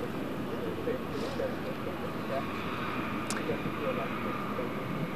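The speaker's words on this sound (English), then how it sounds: "his plane is actually coming up the runway right now" An airplane carrying a visiting official taxis along a runway, a steady low engine roar and hum at moderate distance, heard under someone talking over it.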